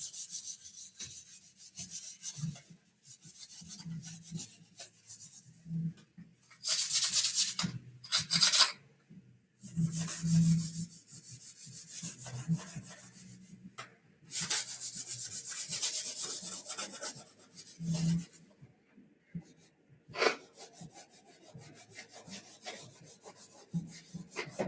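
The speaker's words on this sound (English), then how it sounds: "so just burnishing it down" Weathering is burnished by hand onto an E-flite A-10 Thunderbolt II model plane, producing close, repeated rubbing strokes in uneven bursts separated by quiet gaps, with no talk.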